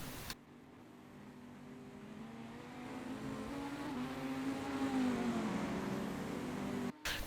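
A Porsche 919 race car in a Le Mans racing video game, its engine note rising steadily as it accelerates, growing louder and closer before cutting off abruptly near the end.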